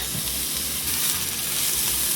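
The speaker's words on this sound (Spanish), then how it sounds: "en lo que se está friendo la cebolla" Steady, loud sizzling of onion frying in hot oil over medium heat, a dense crackling hiss that continues without pause.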